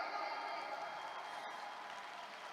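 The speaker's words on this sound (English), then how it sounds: "Can we all give ourselves a round of applause today?" Audience applause at a RIWAY International gathering in the Philippines, a faint continuous wash of many hands clapping in a large room, steady and distant, with no voices over it.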